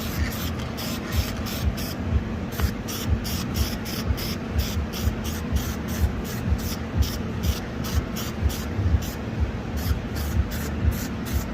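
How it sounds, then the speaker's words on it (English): Spray paint hissing steadily onto the sanded bodywork of a Lexus IS300, a loud close-up stream with rhythmic pulses from repeated passes, lasting throughout. "basically just spray over the sanding"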